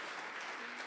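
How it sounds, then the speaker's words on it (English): A brief, faint wash of applause from a conference audience at a 5G and broadband session, a soft continuous patter lasting under a second. "A very warm applause to Peter"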